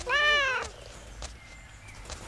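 A cat meows loudly and briefly in the Growrilla video game as a giant gorilla eats it: one drawn-out, close cry followed by faint game noise.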